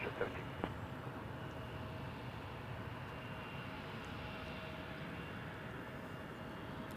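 A WestJet airliner lands on runway 06 right at Toronto Pearson, heard as a steady, distant low engine rumble and broad roar that stays even throughout, with faint voices in the background.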